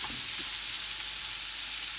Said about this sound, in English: We want to saute the onions down a bit so that, you know, they soften